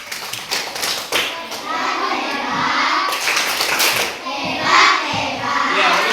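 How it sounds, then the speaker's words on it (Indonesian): Grade 4 schoolchildren in a primary school classroom clap together in a patterned, rhythmic cheer, loud and close, with children's voices calling out over the claps. "kasih tepuk hebat dulu."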